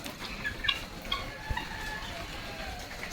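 Chickens and country fowl out in the rain cluck in short, scattered calls close by, over a steady wash of background noise.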